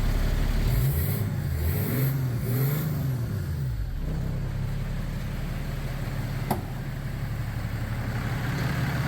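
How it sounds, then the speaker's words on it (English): BMW M57 diesel engine running in a 1969 Ford Mustang, a steady close idle with a few revving swells early on that rise and fall, then settling to an even rumble. "Managed to get the M57 powered Mustang running"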